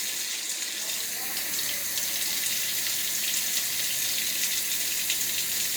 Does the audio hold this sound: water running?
yes